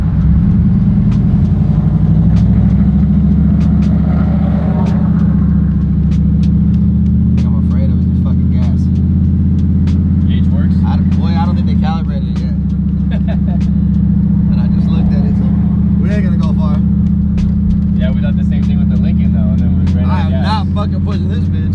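A 1958 Chevrolet Impala cruises along with a deep, steady low engine rumble and drone heard from inside the car, while someone talks over it throughout.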